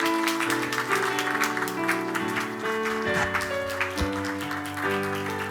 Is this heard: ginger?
no